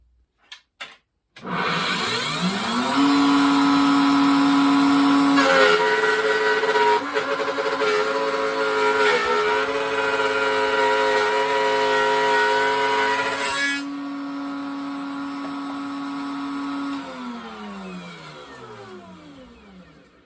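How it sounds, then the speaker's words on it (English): A router spins up to a loud, high whine, bites into 3/4 inch plywood with a harsher, fluctuating cutting roar for several seconds, then returns to a steady whine and winds down, with no voices. "I'm going to run 3/4 inch plywood through to see how much material comes out. And then second time, I'm going to turn on the dust collector"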